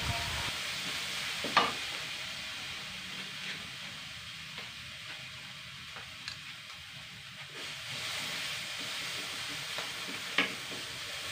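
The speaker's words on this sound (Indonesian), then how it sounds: "Masukkan bumbu nasi goreng tadi yang udah aku haluskan, tumis sampai matang dan baunya harum." Ground nasi goreng spice paste stir-fried in a pan, giving a soft steady sizzle and hiss with occasional scraping clicks of the spatula, fairly quiet and close.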